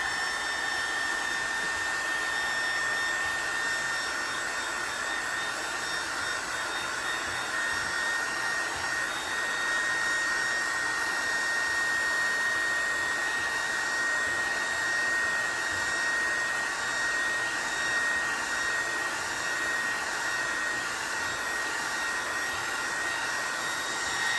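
A hair dryer blows steadily and close at one constant whine for the whole stretch, drying paint on an abstract art piece, with no talking over it.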